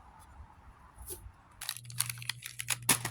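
A crunchy, dirty air filter from a 2008 Kawasaki Bayou 250 ATV being handled gives quiet, close crinkling and crackling bursts that grow denser and louder toward the end, with no voices.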